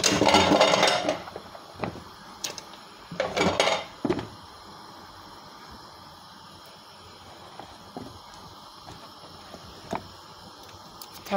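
Peeled, washed yam pieces clatter into a cooking pot for owo soup, a burst of knocks and clinks at the start followed by a second cluster, then sparse light taps in a quiet kitchen.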